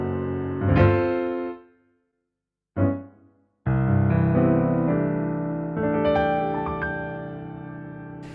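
Rich grand piano chords from a Yamaha CP4 stage piano's CFX grand sound ring out and decay, a short pause, then a sustained passage with a melody climbing over full harmony, close and clear.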